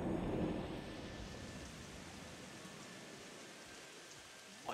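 Rain and a rumbling thunderstorm from the game Reus play as a steady, fairly quiet wash of rainfall with a low rolling rumble underneath, continuous and unbroken.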